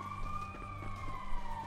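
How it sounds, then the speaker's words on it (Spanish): An ambulance siren wails in the GTA 5 video game, a sustained tone sliding slowly downward over a low engine hum and background noise. "Ahí va la ambulancia ya."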